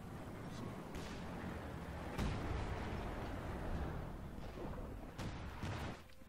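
Infantry support gun firing in Company of Heroes 2, a few heavy booms rising over a steady rumbling battle backdrop, with a voice talking over it.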